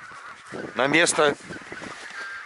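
Honking from a goose during a spring hunt cuts in loud and close, a short burst of nasal calls in quick succession, while someone speaks briefly in Russian around it over faint outdoor background.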